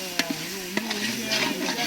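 Tomatoes frying into a paste for biryani in a pan outdoors in a forest, with a soft steady sizzle and a few sharp scrapes and knocks as a utensil stirs them, and no voices.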